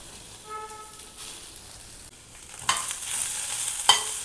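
Sliced onion and green chillies sauté in a pan for a Dindigul-style egg paya. A soft, faint sizzle grows louder partway through, and a brief clatter of stirring follows.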